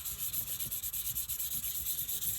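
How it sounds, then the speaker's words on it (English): Wet and dry abrasive paper rubbed over the bottom of a cast resin miniature base, quick rhythmic back-and-forth scratchy strokes, close and fairly quiet, with no talking. "I'm going to take a sheet of wet and dry paper. I'm just going to smooth out the bottom of this."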